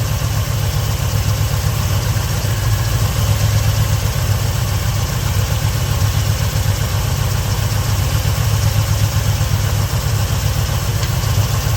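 An engine idles steadily during a carburetor adjustment after a carb swap, a continuous close low rumble with an even throb, heard alone with no talk.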